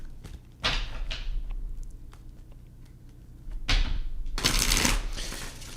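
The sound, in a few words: shuffling cards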